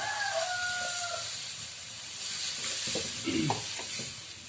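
Masala for a fish curry made with a fish head sizzles and fries loudly in a pan as water goes in. The hiss is steady, with brief stirring scrapes, and a faint rooster crows in the background near the start.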